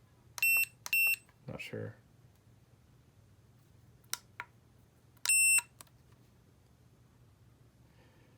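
A Huepar 360-degree laser level detector gives short, sharp electronic beeps in small bursts, with a brief spoken comment and quiet background hum between them.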